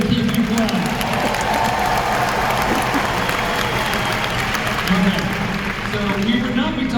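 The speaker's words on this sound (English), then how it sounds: "Let's have a big round of applause for Jimmy Goodwin and Keith Dubois." A large audience at a Disney entertainment showcase applauds in a dense, sustained roar of clapping and cheering that fills the hall, with speech audible underneath.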